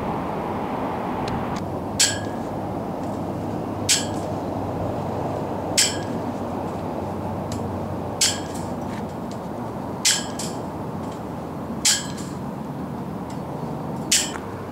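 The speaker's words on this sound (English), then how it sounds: "I begin by using the bolt cutters to cut off the end 4 rows." Bolt cutters snip through the steel wire of a cattle-panel tomato trellis, producing about seven crisp, metallic clicks spaced roughly two seconds apart over a steady outdoor background hum.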